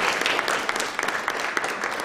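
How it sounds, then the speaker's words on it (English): An audience at a 1 Million Cups event in Cherokee applauds to welcome a speaker before Q&A. Dense, steady clapping from a full room, close and loud throughout, with no talking over it. "please give a warm round of applause for Mr. Spencer Nix"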